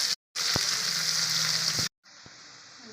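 Chopped onions drop into hot oil already holding dried chillies, whole cumin and bay leaves, giving a loud, bright sizzle that breaks off twice and then settles into a softer, steady fry.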